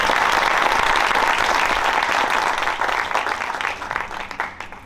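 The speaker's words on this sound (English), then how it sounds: "Have a round of applause for them as well." Parents and audience applaud at a Year 3 Egyptian-themed school assembly performance, a full burst of clapping that begins loud and gradually thins and fades over five seconds.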